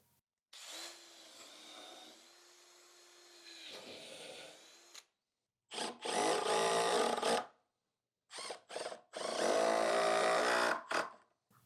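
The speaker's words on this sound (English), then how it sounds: "put a couple screws in" A power drill fitted with a countersink bit drives screws into a 2x4 board in short, loud bursts separated by pauses, with a whining motor and grinding bite into the wood.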